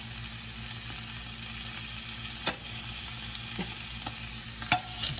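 Chicken browning in a pan sizzles in a low, even hiss close by, broken by two distinct knocks of a utensil against the pan, without voices.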